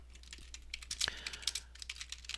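Instructions typed on a computer keyboard in a quick, uneven patter of soft key clicks, one slightly heavier thump in the middle, close and quiet with no voice.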